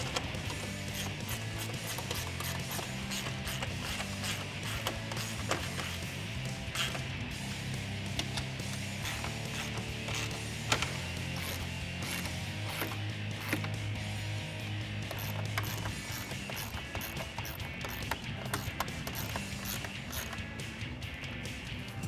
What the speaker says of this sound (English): tighten them all down using our 10mm socket